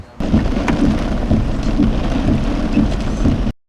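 Rain and hail pound a vehicle during a tornado, a loud, continuous rumbling roar with sharp impacts that starts abruptly and cuts off just as suddenly.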